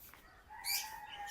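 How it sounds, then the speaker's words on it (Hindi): Pet parrots on a rooftop give a few quiet, high chirps and tweets, with one brighter call standing out midway, faint against soft outdoor ambience. "आपके तोते बातें कर रहे हैं।"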